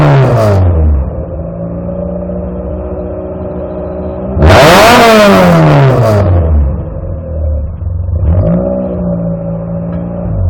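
A Volkswagen Golf Mk1 engine idles with a throaty rumble, then revs hard to a loud, rasping peak and falls back, followed by a second, shorter blip of throttle.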